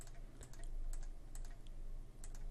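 Computer keyboard keys pressed while zooming in ArcGIS Pro give a run of quick, light clicks in an irregular rhythm, close and fairly quiet, with no talking.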